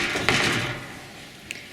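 Door on a duck brooder closing with a single solid thud near the start, followed by a fading rattle and a faint small tap shortly after, no voices.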